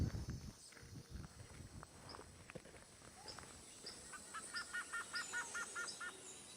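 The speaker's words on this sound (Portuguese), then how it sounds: "Sem querer, acabamos acordando os passarinhos com a luz das nossas lanternas." Birds in a muddy Brazilian forest before dawn, stirred by flashlight beams, give a run of quick, rhythmic chirps that build toward the end, faint against rustling and footsteps.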